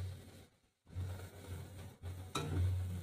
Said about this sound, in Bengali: খুব ভালো করে ভেজে নিলাম মশলাটা